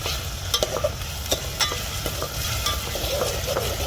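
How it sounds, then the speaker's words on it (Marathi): Ginger-garlic paste sautéing in a pan with browned onion for egg biryani, a close, crackling sizzle broken by repeated scraping stirs of a spoon. "आणि अद्रक लसूण पेस्टला मी परतून घेणार आहे दोन मिनटं"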